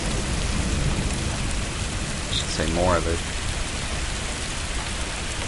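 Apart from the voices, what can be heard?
rain during a storm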